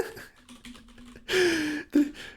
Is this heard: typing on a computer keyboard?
yes